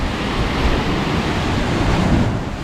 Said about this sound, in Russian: Во! Вот это наша волна, я думаю.